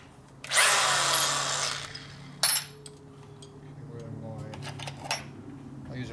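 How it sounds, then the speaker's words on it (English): Round burr deburring tool grinding metal while building a 1973 Harley shovelhead custom bobber, one loud whirring burst of about a second followed by a short second burst and faint clinks. "I use a round burr as my deburring tool"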